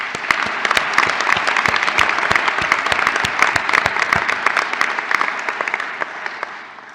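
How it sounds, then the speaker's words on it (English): Graduation ceremony audience giving a round of applause for design award winners, dense sustained clapping that stays even for several seconds before slowly thinning out. "Please join me in another round of applause for our award winners."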